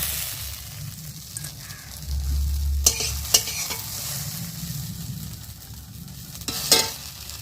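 Okra frying in an oil-filled kadai on a home stove, a steady close sizzle with a few sharp clacks of a spatula stirring, continuous and without talk.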